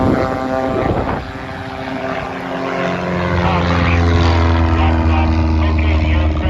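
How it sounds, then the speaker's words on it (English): A skydiving aircraft turns on the drop zone runway and powers up for takeoff, its propeller engine droning close and loud with a rising pitch that builds steadily. "the aircraft is turning on the runway, powering up for takeoff"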